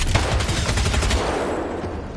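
Rapid bursts of gunfire ring out in an action-film scene, loud and close, with dense shots in the first half giving way to a trailing, fading echo.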